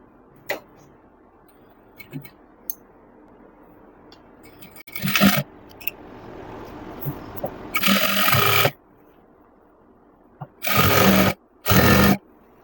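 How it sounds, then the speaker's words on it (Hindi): A sewing machine stitches a pant seam in a few loud bursts of whirring, one long and two short, after a quieter stretch with light handling clicks. "अब इस पे लगा लेते हैं हम सिलाई।"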